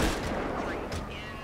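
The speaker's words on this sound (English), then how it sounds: "Who's shooting, bro?" Gunfire in GTA 5 with a police mod, a short burst of loud, dense shots and booms in quick succession, heard briefly over a noisy game background.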